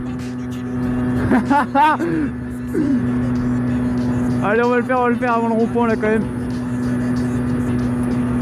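Derbi Xtrem moped engine droning steadily at close range while overtaking a truck, with buzzy revving surges as the rider accelerates, under French speech from the rider.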